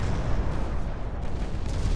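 Naval gunfire in the battleship game Ultimate Admiral Dreadnoughts, with main and secondary guns all firing, forms a dense, continuous low-frequency roar of overlapping booms without distinct pauses.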